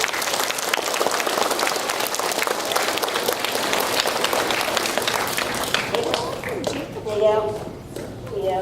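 Elementary school students in a gym applaud, a dense, loud burst of clapping that carries for several seconds before tapering off, with voices rising near the end.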